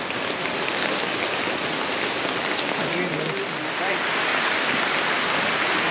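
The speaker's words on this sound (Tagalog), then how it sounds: "Oh, umulan pa nga guys." Steady, heavy rain pouring down close by, a constant dense hiss without letup for the whole stretch.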